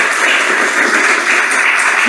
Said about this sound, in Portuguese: queria uma salva de palmas para o Marcelo